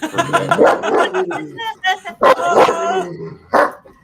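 A big old dog barks and yips close by amid animated, overlapping human talk, with a few loud bursts standing out between the voices.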